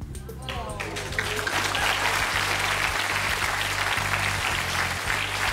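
Dense, loud studio audience applause that swells after a brief start and holds steady at full strength, with a low rhythmic musical pulse running underneath.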